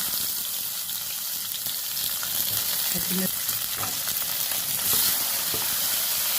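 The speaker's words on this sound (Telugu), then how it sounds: "మళ్ళీ స్టవ్ అంటిస్తున్నాను జీలకర్ర ఉల్లిపాయ ముక్కలు" Cumin seeds and onion pieces fry in a pan on a stove, a steady bright sizzle that fills the whole stretch, with a few soft stirring knocks near the middle.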